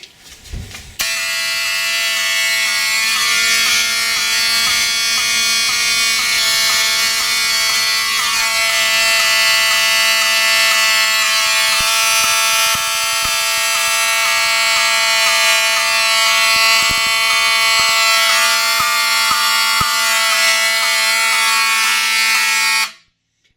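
Fire alarm sounding during a system test after a pull station is pulled, a loud, continuous electronic tone with buzzing harmonics that runs steadily for over twenty seconds and then cuts off.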